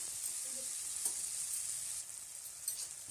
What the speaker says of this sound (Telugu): ఇందులోకి కొంచెం అల్లం పేస్ట్ కూడా వేస్తున్నానండి। ఇది కూడా ఇందులో కొంచెం కలిసిపోయి ఫ్రై అయితే సరిపోతుంది